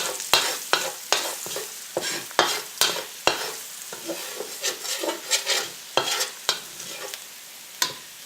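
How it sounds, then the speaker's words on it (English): Garlic and pepper mixture frying in oil in a pan, a soft sizzle under repeated sharp scraping stirs of a utensil, close and with no talk. "So you just want to fry your garlic and pepper mixture until the garlic just starts to turn color"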